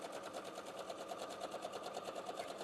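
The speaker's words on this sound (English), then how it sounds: "take it back to the sewing machine, and I'm going to sew" A sewing machine stitches a quilting seam at a steady rapid rhythm, a continuous close mechanical whir with even needle pulses and no talking.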